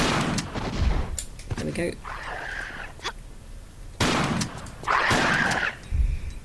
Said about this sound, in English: Grab these shotgun shells and then pull out your shotgun. Got a couple of these demons.